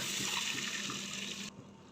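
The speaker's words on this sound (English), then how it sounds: "Now pour some milk" Milk is poured into a pan while making kesar paneer, giving a steady liquid splashing rush for about a second and a half that then drops away to a quieter trickle.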